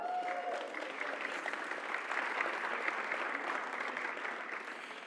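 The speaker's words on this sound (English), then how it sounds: "A round of applause." Steady applause from a seated audience at a panel discussion on women's economic power, a dense, even wash of clapping that holds for about five seconds and thins slightly at the end.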